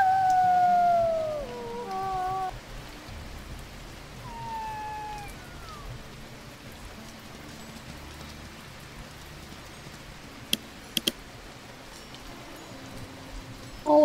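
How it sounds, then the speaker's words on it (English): Wolf pups howl in the WolfQuest video game, thin rising and falling calls heard at moderate distance over a steady rain-like ambient hiss, a few overlapping wails early on, then fading to the soft background. "I'm trying to listen for their howl."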